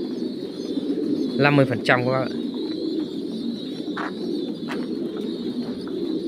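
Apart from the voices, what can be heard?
birds (pigeons) cooing in the speaker's aviary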